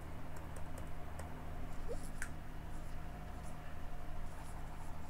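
Typing on a computer keyboard during a coding tutorial, scattered light key clicks over a steady background hum, near and fairly quiet.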